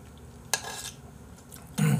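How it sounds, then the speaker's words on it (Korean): A metal spoon scrapes against a bowl while eating ramen with dumplings, a few short, sharp clinks and scrapes, close and distinct, with no talking. "숟가락이 쇠 숟가락이니까 자꾸 그릇 긁는 소리 겁나 거슬리네."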